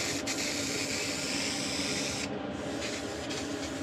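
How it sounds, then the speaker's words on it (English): A spray gun lays a heavy finish coat onto walnut award plaques, giving a steady, loud hiss that runs continuously with only a brief dip midway. "I'm spraying a nice heavy coverage going one direction, then I'm switching my direction of spray 90 degrees and applying a second coat."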